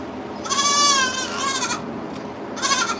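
Young goats bought at auction bleat in a few loud, wavering calls close by, a long cry followed by a shorter one and another after a pause.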